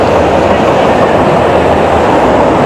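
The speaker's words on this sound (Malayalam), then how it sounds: "നമ്മുടെ ട്രെയിൻ കിടപ്പുണ്ട്." A train gives a loud, steady rumble of rolling wheels heard up close, filling the whole short stretch with no talk over it.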